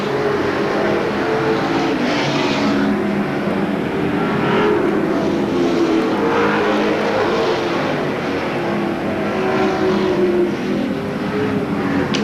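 Pro Stock race cars roaring off turn 4 at Seekonk Speedway, a dense, loud, sustained engine wash with overlapping revving and passing surges, no speech.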